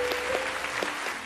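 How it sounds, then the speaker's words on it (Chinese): A studio audience applauds to welcome a police bomb-disposal officer, a short burst of dense clapping at moderate loudness. "我们先掌声欢迎一下张警官。"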